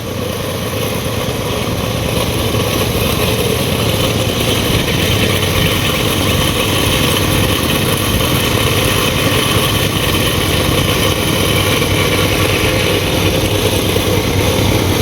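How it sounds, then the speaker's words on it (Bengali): A loud, steady power tiller engine chugs and idles continuously while working a field, a coarse mechanical rumble with no pauses or voices. "মাঠে আপনার ট্রাক্টর দিয়ে আল বাইতেছে, পাওয়ার টিলার।"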